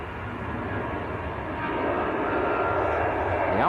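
An EasyJet airliner takes off at Manchester Airport as a steady, broad engine roar that swells slightly louder over the last couple of seconds, heard from a moderate distance.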